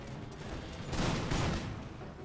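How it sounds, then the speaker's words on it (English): French grenadiers and infantry firing muskets at a rear guard in a video game, a dense rolling fusillade of overlapping shots that swells in the middle of the clip and stays continuous throughout. "the French grenadiers and the infantry are opening fire towards the rear guard of the Cherokee"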